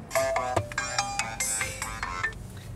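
A phone ringtone plays loudly and continuously inside a car during a driver's ed scenario, a bright repeating melody with steady rhythm, no talking over it.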